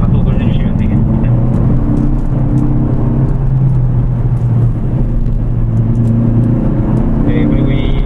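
A Hyundai K3 GT accelerates out of a corner on the Inje Speedium race track, its engine a loud, steady drone that holds for the whole stretch with no pauses.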